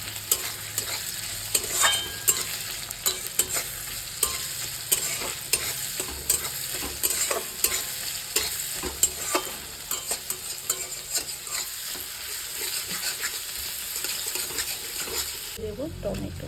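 Sliced onions sizzle steadily in hot oil in a pan while a spatula stirs and scrapes at irregular intervals, close and continuous for the whole stretch.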